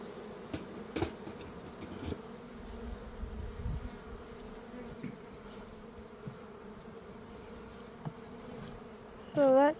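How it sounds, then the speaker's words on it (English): Steady droning buzz of many honey bees swarming close by, continuous throughout, with brief louder thumps near the end. "Lots of bees."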